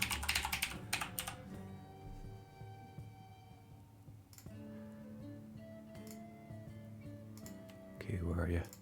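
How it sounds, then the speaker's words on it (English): Typing on a computer keyboard while searching for a game mod, with soft rapid key clicks running under background music and occasional speech. "So I'm going to type in diversity here."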